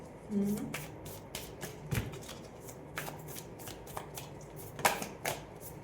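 A deck of tarot cards is shuffled and cards are drawn close by, with quick riffling flutters and soft slaps of cards in a steady, uneven rhythm.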